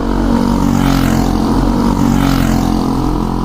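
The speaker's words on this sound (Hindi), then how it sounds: "इंजन की गड़गड़ाहट के साथ सब आगे बढ़े।" Several motorbikes start up and pull away at midnight, a loud, continuous, steady engine roar with a low droning rumble that fills the whole stretch.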